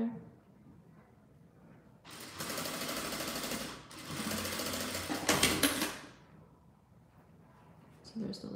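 A sewing machine runs in two sustained bursts, stitching a label onto a fabric squeeze pouch. The stitching is loud and close, with a brief stop between the bursts, then the room goes quiet.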